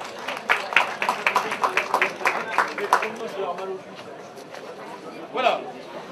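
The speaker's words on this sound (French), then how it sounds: "Je vous demande d'applaudir Céline Moidon" A crowd claps for a woman finishing third in a triathlon at Cruguel/Josselin, a quick run of brisk handclaps mixed with voices and chatter, then fading.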